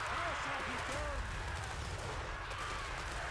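Chaos Dwarf gunners fire volleys at rat troops in a Total War Warhammer 3 battle, a steady wash of distant gunfire and crackle with faint whistling streaks, quiet and continuous over the battle ambience.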